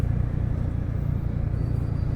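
Steady road traffic with cars and motorcycles passing, a dense low engine rumble that holds close and loud throughout with no voices over it.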